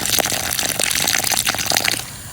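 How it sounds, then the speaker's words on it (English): Water poured from a watering can into planting holes in a garden bed makes a close, continuous gushing splash that stops abruptly near the end. "I take my watering can and I fill up each hole with water"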